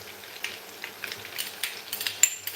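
Chopped purple and white onion with mixed ginger and garlic sautés in a pan for chicken in groundnut soup with coconut oil, making a soft sizzle with light scraping stirs and small crackles close by.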